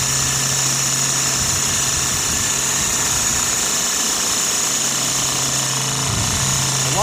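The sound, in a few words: Sirius steam engine generator running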